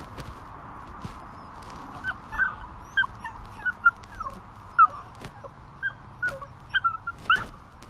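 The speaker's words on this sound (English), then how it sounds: "Watch my puppy fake a broken leg." A puppy faking a broken leg whimpers and yips in short, high, repeated cries, close and fairly quiet, with no talk.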